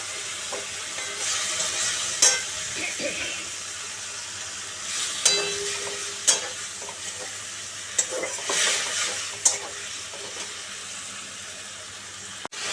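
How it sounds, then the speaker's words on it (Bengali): Spice masala with chili powder, sugar and a splash of water sautés in a pan for okra curry, giving a steady hissing sizzle broken by occasional spoon scrapes and clicks as it is stirred, close and fairly loud with no talk. "আর একটু জল দিলাম মশলাটা কষানোর জন্য"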